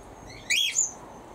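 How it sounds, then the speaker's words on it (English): A bird in an aviary gives a brief, bright two-part chirp that rises clearly above the quiet background, then fades. "Sorry, I keep getting distracted all the time by birds."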